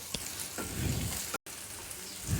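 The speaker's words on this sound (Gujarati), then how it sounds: "મેં દસથી પંદર લસણની કળી લીધી છે એ નાખી દઈએ એને પણ આપણે ફૂલ ગેસે સાતરી લેવાનું છે" Ten to fifteen garlic cloves fry on a full gas flame, a steady close sizzle with a brief stirring scrape, alone without talk.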